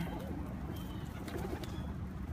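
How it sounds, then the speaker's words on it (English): Wild pigeons coo softly nearby, low murmuring calls repeating under a steady background rumble. "These are wild pigeons."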